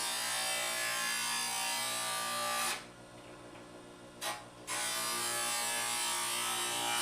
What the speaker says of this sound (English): we still have another step, and that's going to be deburring the product before it goes on to getting bent